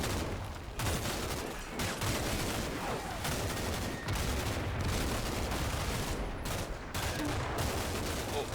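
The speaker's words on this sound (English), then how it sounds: "they did have a quick target order to shoot up this building, shoot up the next room" Dense, continuous gunfire from a squad shooting up a building in the video game Combat Mission Shock Force 2, sustained volleys and machine-gun bursts overlapping throughout.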